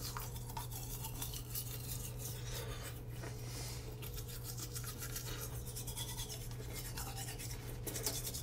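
Teeth are brushed with a toothbrush, a steady close scrubbing and rubbing with a low hum underneath, faint and continuous with no talking.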